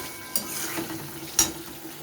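Potatoes and pointed gourd sautéing with spices in a pan, a steady soft sizzle with a few sharp scrapes of a stirring spoon against the pan, close and alone.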